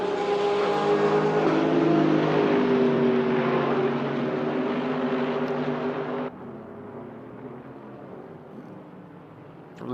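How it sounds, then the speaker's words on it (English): A Porsche race car engine drones loudly and steadily during a racing practice session, its pitch climbing, then drops abruptly to a quieter, lower hum about two-thirds through. "Just hearing a Porsche in the background there"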